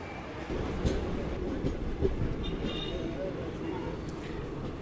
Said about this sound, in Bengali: এই ট্রেনে এখানে 1 মিনিটের হল্ট আছে।